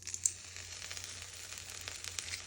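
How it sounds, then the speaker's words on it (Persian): Soft, steady sizzling and light crackling of something frying in oil, with occasional small pops, close by and fairly quiet. "روغن میذاریم که بمونه برای سرخ کردن سیر"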